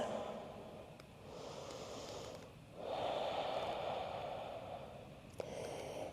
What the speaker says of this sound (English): And just take a couple breaths.